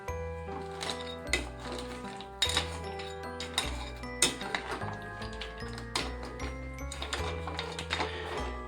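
Cleaned crabs go into a pot of masala with scattered clinks and clatters of shells and utensils against the pot, heard over steady background music.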